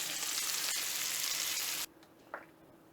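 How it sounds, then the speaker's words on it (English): Oyster mushrooms fry in butter in a pan with a loud, close, steady hiss and crackle for about two seconds before the sizzle cuts off abruptly, leaving quiet with a faint clink. "Now I'm frying the other side, and then I'll remove it."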